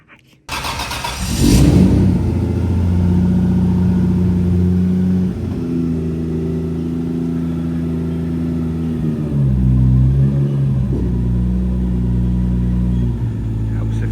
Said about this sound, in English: I might insert a little clip now of him reversing it back in.